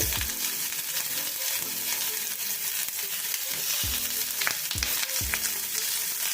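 Washed, chopped tomatoes fry in hot oil in a pan of flat beans, giving a steady loud sizzle with a few stirring scrapes and no voices.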